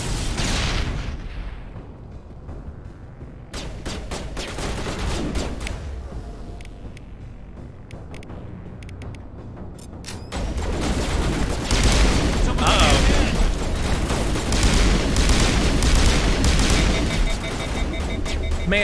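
Bomb explosions and gunfire in the video game Mass Effect: loud booming blasts and rapid bursts of shots, growing denser and louder midway, with someone talking over the combat.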